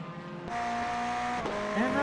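Ferrari GT3 race car engines in an iRacing race at Hungary, a steady mid-level engine drone rising in pitch, with faint tire noise near the end.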